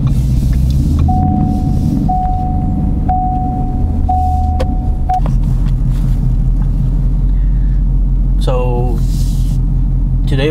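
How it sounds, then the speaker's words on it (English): A Ford Mustang V8 rumbles low and steady from inside the car on a Hong Kong road, with a short tonal whine early on and a brief rising sound near the end. "Ooh, that's a V8."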